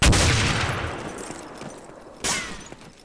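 Gunfire in a sniping video game: a loud close shot with a long rolling echo, then a second sharp shot about two seconds later, with no talk.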